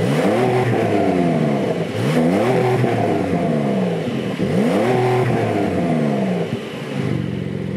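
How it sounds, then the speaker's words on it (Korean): A 2023 Porsche 911 Carrera GTS Cabriolet with its standard sports exhaust system, a flat-six engine, revs repeatedly through rising gear pulls, the engine note climbing and dropping in loud, close bursts with brief lifts between. "잠시 배기 사운드를 들어볼까요?"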